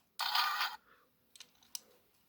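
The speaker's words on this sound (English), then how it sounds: "If you press it, either does this snapshot sound," A Transformers Armada Laserbeak toy sounding its camera snapshot effect, a short bright electronic burst followed by two faint clicks, close and fairly quiet.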